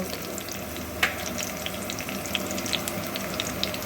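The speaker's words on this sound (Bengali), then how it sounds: "নুনটা দিয়ে একটুখানি ভালো করে নাড়াচাড়া করে নেব" Momo filling being stirred with salt in a hot pan, giving a steady sizzle with soft scraping strokes and one sharper clink of the spoon near the start.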